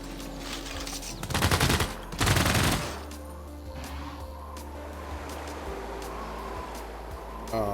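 A ranged attack firing in the strategy game Civilization VI, a loud burst of rapid gunfire-like volleys lasting about two seconds over steady game music and ambience.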